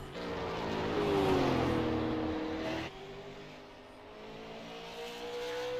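A super late model race car on track at New Smyrna, its engine rising in pitch as it passes, then a sudden drop to a quieter, more distant drone, heard faintly with no voices.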